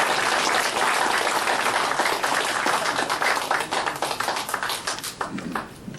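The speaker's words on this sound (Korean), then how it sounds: "네, 박수 부탁드립니다." Audience at a rally calling for a party's dissolution claps to welcome a guest speaker: dense, loud applause that thins into scattered individual claps toward the end.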